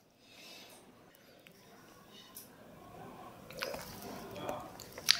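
Whisky from a bottle of 1980s Johnnie Walker Black Label is poured into a glass, a quiet, soft liquid trickle that rises in the last couple of seconds over a faint, hushed room.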